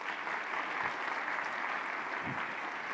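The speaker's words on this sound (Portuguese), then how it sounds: "Uma salva de palmas para vocês." An audience applauds at a Brazilian stage event with Pablo Marçal and Carol Marçal, steady dense clapping held at an even level throughout, with no voices.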